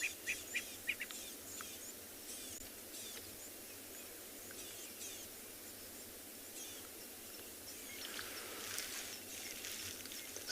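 Francolins giving alarm calls at a moving leopard on a sunrise safari at Tswalu, distant scratchy calling over steady insect and bird chatter in open bush.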